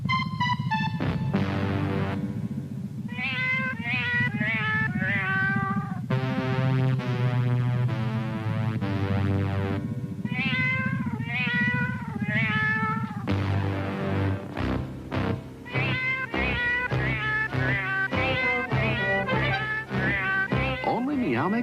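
Cats meow repeatedly in a Meow Mix cat food commercial jingle, the melodic meows rising and falling in a sung rhythm over steady background music, loud and close throughout.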